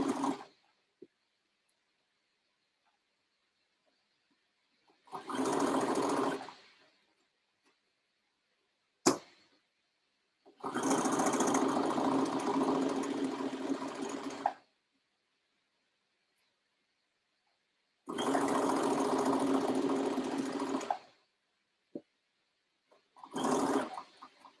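A sewing machine stitches the neckline of a lined dress in separate bursts of rapid, even whirring, each lasting a few seconds, with quiet pauses between runs and no speech.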